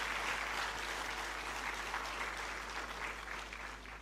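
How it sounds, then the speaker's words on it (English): A warm round of applause from an evening oration audience for Professor Annakage, dense continuous clapping from many hands that stays full and even, easing slightly toward the end, with no speech. "a warm round of applause for Professor Annakage"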